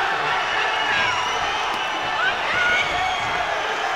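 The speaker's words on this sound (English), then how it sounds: "the crowd are absolutely going bananas" A fight crowd at an Alpha Fight Series event cheers and roars wildly in a dense, sustained wall of noise, with whoops rising over the steady din.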